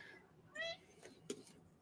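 A pet cat gives a short meow at close range, followed moments later by a brief chirp in a quiet room.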